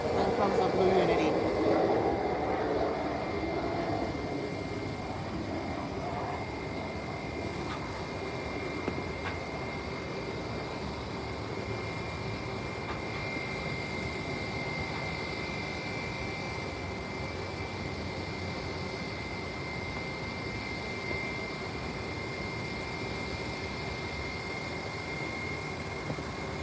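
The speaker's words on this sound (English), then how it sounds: "Wait, that's Tradewind now landing." A Tradewind Aviation plane landing at San Juan airport, a steady distant aircraft drone with a sustained whine that holds across the whole stretch, some louder rumble at the start, with faint talk in the background.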